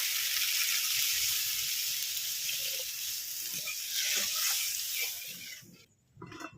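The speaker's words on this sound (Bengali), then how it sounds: "এবারে এর মধ্যে জল দিয়ে দেবো।" Water poured into a pan of fried masala for a stuffed pointed gourd curry, setting off a loud, steady broadband sizzle that runs continuously, then cuts off abruptly near the end with a brief clatter.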